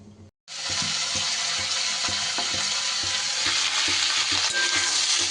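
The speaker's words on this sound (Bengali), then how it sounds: "সিমগুলোও আমার বেশ কিছুটা ভাজা ভাজা করা হয়ে গেছে" Flat beans frying in a pan, a loud, dense, continuous sizzle that starts abruptly after a brief silence, with faint stirring knocks underneath, close up and alone.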